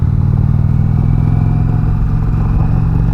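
A 2019 Indian Chieftain Limited motorcycle in tour mode rumbles loudly and close as the throttle is let out, a continuous deep engine drone with steady pulsing throughout.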